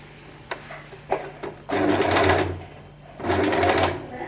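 A sewing machine stitches a seam on a nighty, opening with a few brief taps and then two loud bursts of rapid running stitches separated by a short pause, close by.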